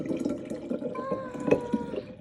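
Water poured into a sourdough starter in a jar, a short trickling splash with small drips, close and fairly quiet, with a brief voice in the background.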